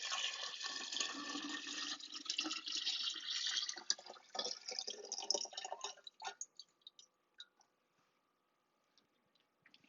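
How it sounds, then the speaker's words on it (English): Cold water pours steadily into a jar with a bright, splashing gush that thins into scattered drips and trickles before falling silent. "So I'm going to pour some cold water in here first."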